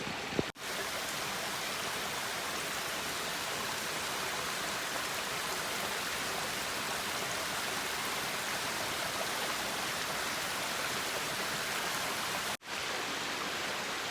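A small woodland stream flows behind a hiker's camp on the Loyalsock Trail, its steady close rush and broadband splashing continuing unbroken for the whole stretch with no voices.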